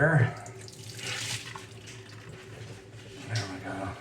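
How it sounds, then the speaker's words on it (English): Water runs from a tap into a sink and drains while a mud-covered car instrument cluster from a flooded car is cleaned, a steady close splashing rush with brief louder bursts at the start and near the end. "The water drains better."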